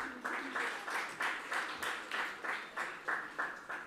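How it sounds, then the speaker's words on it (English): A conference audience claps at a leadership awards event, a faint, steady run of about a dozen rhythmic claps heard from a distance. "A round of applause, please."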